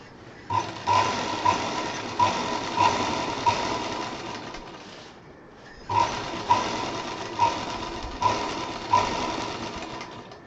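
A sewing machine stitching piping onto a travel bag: a steady, fairly loud mechanical whir with faint rhythmic clicks, in two runs separated by a brief pause near the middle.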